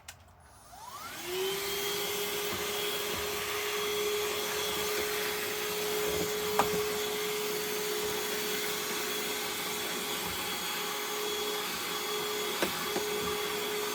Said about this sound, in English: I don't know when the last time this thing's been vacuumed, but good God, it needs it.